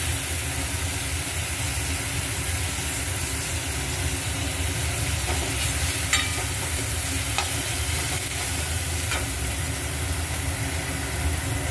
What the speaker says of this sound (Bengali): রসুনগুলো দিয়ে দেবো, রসুন কুচিগুলো।